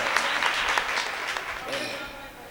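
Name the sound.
mushaira audience applauding loudly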